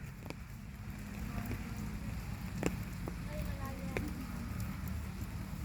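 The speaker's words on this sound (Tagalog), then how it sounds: "Kasi kahit umuulan." Steady rain falling outdoors in a garden in Gasan, Marinduque, a continuous even hiss with a few faint tapping drops.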